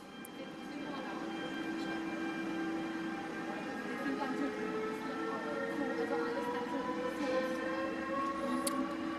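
An RE2 regional train from Karlsruhe to Konstanz rumbles steadily into platform 3 of a German station, with a long rising and falling mechanical whine and faint background noise.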